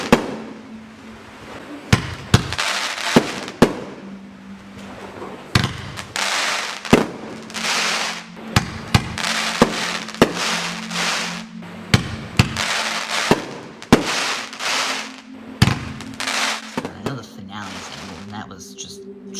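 A Vampire Bride 500-gram finale cake by Boom Wow firing off, with steady loud launches and crackling bursts repeating one after another across the whole span, and no talking.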